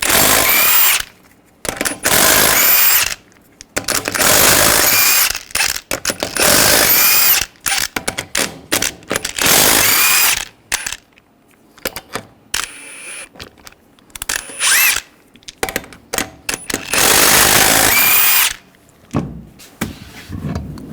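A power tool takes the lug nuts off a 2007-2013 Chevrolet Silverado wheel with a 22mm socket. Loud, close bursts of whirring and rattling impact run for a second or two at a time, separated by short pauses.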